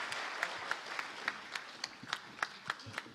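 A small audience at a membership workshop applauds, with scattered sharp claps ringing out at a brisk, uneven pace over a soft room background.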